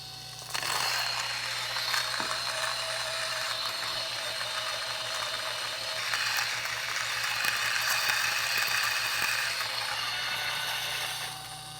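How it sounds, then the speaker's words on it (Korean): A Baratza Vario coffee grinder grinding beans, a steady dense whirring grind that runs continuously for about eleven seconds, close and loud with no talking. "혹시 모르니까 한만 더 갈아 볼게요"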